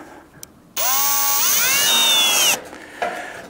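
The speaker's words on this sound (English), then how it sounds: "It's this first time around here of getting the screws in here" Powered screwdriver or drill driving screws while assembling a Camp Chef Alpine heavy duty cylinder stove, one loud continuous whirring run with pitch rising then holding steady for nearly two seconds, then stopping abruptly.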